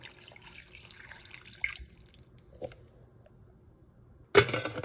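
Water runs from a tap into a pressure cooker holding chopped carrots, almonds, cashews and cardamom, a soft trickling stream that tapers off, followed by a brief clink and a sharp metallic clatter at the end.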